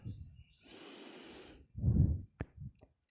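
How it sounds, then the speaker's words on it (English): During a breathing exercise, someone takes a soft, airy inhale through the nose lasting about a second. Heavier breathy puffs and short snort-like sounds follow close by. "inhale from your nose for 4 seconds, then hold the breath for 7 seconds"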